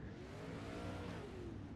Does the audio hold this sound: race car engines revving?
yes